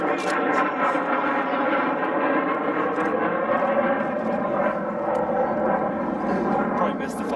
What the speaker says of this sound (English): This is part of the triad of nuclear-capable long-range bombers for the United States Air Force. It's the B-2.